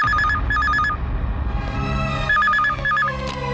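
A telephone rings in a film scene, with bursts of warbling electronic tones that repeat in pulses over a low background murmur.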